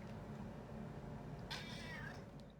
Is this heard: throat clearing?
no